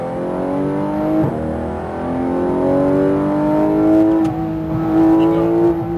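A Porsche GT3 RS engine revs and pulls steadily as the car accelerates onto a race track, its loud rising harmonic whine holding through several gear-laden swells, close and continuous.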